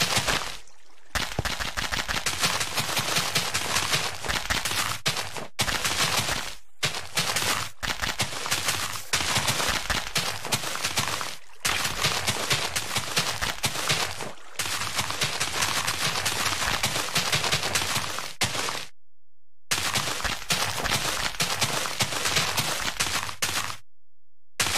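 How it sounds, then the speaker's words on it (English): Towers of TNT set off as an atomic bomb in Minecraft, a long, dense, loud barrage of rapid overlapping explosions with only brief gaps, roaring continuously with no talking. "we got our atomic bomb with towers of TNT. This peninsula is gone."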